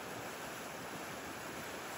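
Water released from a dam rushes under a road bridge, making a continuous, even roar with no breaks and no voices.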